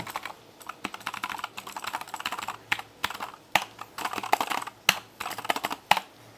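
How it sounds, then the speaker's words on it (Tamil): Rapid typing on a Keychron mechanical keyboard, crisp clacky keystrokes in uneven bursts with a few louder spacebar or key hits, close up and with no talking. "மெக்கானிக்கல் கீபோர்டும் வாங்குது இந்த சவுண்டுக்காகவே வாங்கிட்டு வந்தேன்"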